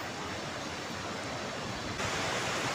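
Cigorobog waterfall in Sumedang at night gives a steady, dense roar of falling water with wind mixed in, loud and continuous, swelling slightly toward the end.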